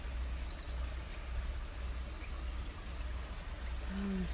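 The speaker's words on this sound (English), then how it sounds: "Listen to the birds today." Faint, high bird chirps and short trills come and go over the steady rushing wash of a small creek, heard outdoors near the water.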